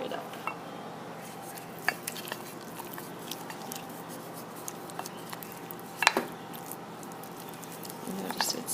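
A utensil stirs chicken juices into a pot to make gravy, giving light scraping and tapping with a few sharper clinks against the metal over a low steady background. No one speaks.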